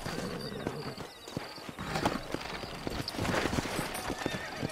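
Horses clip-clop and whinny in a town setting in the video game Red Dead Redemption, steady hoof clatter with neighs rising through it while someone talks.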